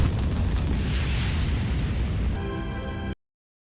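A firecracker goes off in the animated film Minuscule 2, a loud, sustained blast of broadband noise lasting about two seconds before tailing into a quieter, tonal ring and then cutting to silence.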